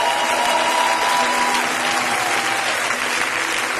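A church congregation bursts into sustained applause, dense and steady clapping from a large crowd that lasts the whole stretch without pause.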